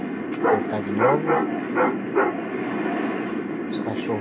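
Several short dog barks and yips in the video game Life After, fairly close, in a quick irregular series over a low background hum, with a couple more near the end.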